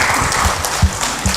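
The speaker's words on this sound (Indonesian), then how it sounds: "Beri aplaus untuk Sinta." Applause from an audience at a children's forum evening talk event, a brief steady wash of clapping with a slight swell partway through.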